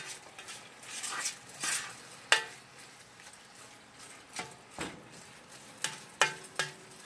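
Beef cooks in a pan for Filipino-style spaghetti, giving a soft, steady sizzle broken by intermittent scraping stirs and light clinks of a utensil against the pan, fairly quiet and close.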